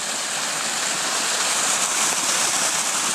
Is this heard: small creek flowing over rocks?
yes